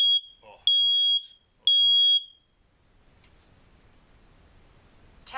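A Nest smoke detector sounding its test alarm indoors: loud, piercing high beeps in two sustained bursts, then quiet room noise and a rustle at the end.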